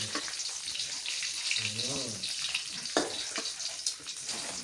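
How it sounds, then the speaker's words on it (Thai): Eggs deep-frying in hot oil for Thai son-in-law eggs give a steady close crackling sizzle with brief bubbly pops, running continuously with no talk. "ไข่แล้วก็ลงทอดเข้าไปแล้วนี่"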